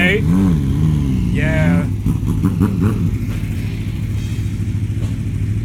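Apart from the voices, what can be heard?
loud motorcycles revving and leaving a car show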